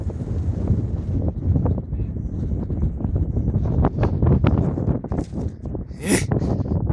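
Strong wind buffets the microphone at a model airplane field, a rough, continuous low roar with gusty swells and rustling throughout.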